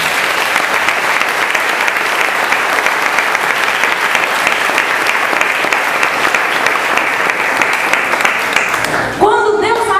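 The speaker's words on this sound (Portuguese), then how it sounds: "Pode aplaudir o Senhor." Church congregation applauding the Lord, dense steady clapping from a crowd filling the room for about nine seconds before a voice cuts in.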